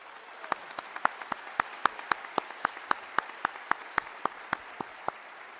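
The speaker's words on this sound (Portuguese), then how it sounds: "merece o aplauso de todos nós" A conference audience applauding, heard as a sparse, fairly faint run of separate claps with a steady rhythm over a quiet room, no voices.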